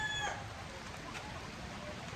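Chickens, including white Leghorn hens, cluck and crow briefly at the start over a steady low outdoor rumble, then only faint background noise remains.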